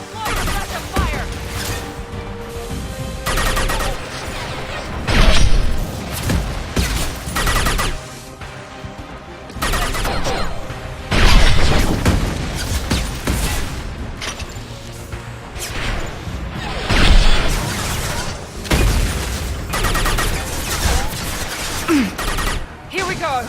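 Gunfire and explosions in the Mass Effect 2 shooter game on Xbox 360, bursts of loud shots and booming blasts recurring every few seconds amid combat noise, with voices speaking over the fighting.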